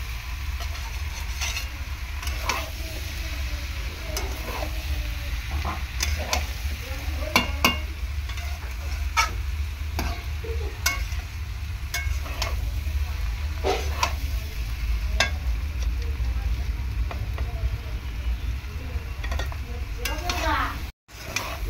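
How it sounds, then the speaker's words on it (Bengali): Young jackfruit curry with cumin powder is sautéed in a pan, with repeated scraping stirs of a spatula over a soft, continuous sizzle, close and fairly quiet, ending in a brief knock. "জিরের গুঁড়ো দিয়ে ভালো করে কষিয়ে নেব।"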